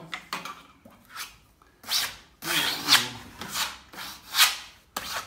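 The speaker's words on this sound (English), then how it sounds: "we're just giving some of this a polish off" Plaster on a room wall is polished by hand in a series of rough rubbing and scraping strokes, irregular and close, with pauses between passes.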